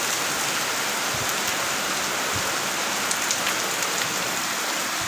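Steady rain falls outdoors on a cold day, a continuous even hiss of drops on surfaces with no pauses or voices throughout.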